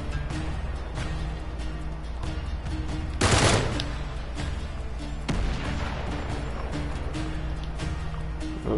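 Gunfire erupts in the video game Uncharted 3: Drake's Deception, a dense continuous stream of shots with one louder burst partway through, loud and steady throughout with no talking.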